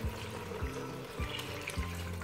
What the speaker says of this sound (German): Nun gebe ich frisches Wasser zum eingefallenen Salat.